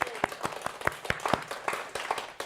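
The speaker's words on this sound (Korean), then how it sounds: "영광의 박수 드립니다" Sparse, slow clapping in a church during a Thanksgiving sermon, about a dozen distinct claps spaced unevenly, fairly close and moderate in loudness rather than a full crowd ovation.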